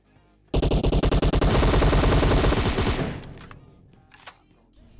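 Automatic gunfire in the mobile game PUBG Mobile, a close, loud rapid burst of shots merging into a sustained roar for a few seconds, then fading into quieter game ambience.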